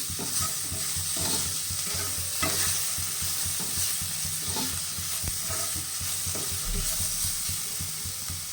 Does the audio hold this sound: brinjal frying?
yes